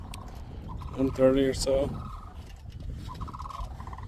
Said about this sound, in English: There are a lot of geese.